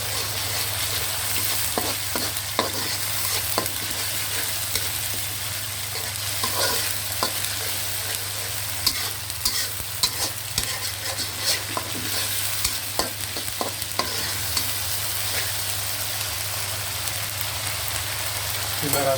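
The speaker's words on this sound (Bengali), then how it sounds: "আস্তে আস্তে কষাবো যেন মশলাটা পুড়ে না যায়" Ginger-garlic paste and spices frying in a pan over a steady, dense sizzle, with scattered scrapes and taps of a spoon stirring, close and continuous throughout.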